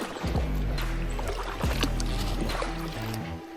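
A kayak paddled on a river, with a couple of watery paddle strokes splashing close by over a steady low rumble of moving water.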